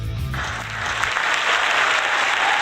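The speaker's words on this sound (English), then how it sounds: "give a nice big round of applause for Bruce Goldberg" A live studio audience applauds Bruce Goldberg on a Sunday night show, a loud, dense wash of clapping that swells and holds steady after a brief low hum at the start.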